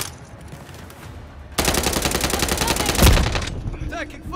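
Loud, sustained automatic gunfire in the video game Call of Duty: a rapid rattling burst of shots running about two seconds with a heavy thump near the end, then fading into quieter game noise.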